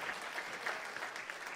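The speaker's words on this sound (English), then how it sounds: "Come on, would you clap it up?" An audience applauds a church ministry team at a service with a guest speaker, steady dense clapping heard faint and distant throughout.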